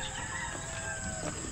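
Chickens clucking and crowing among farm fowl, faint calls heard against a loud, steady background hum.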